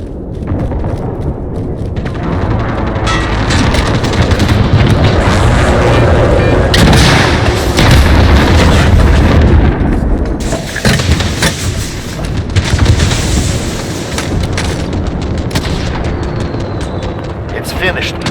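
Precision airstrike in Call of Duty Modern Warfare Ground War, a loud continuous barrage of explosions and heavy gunfire rumbling for many seconds with repeated booming peaks, a voice speaking over the battle.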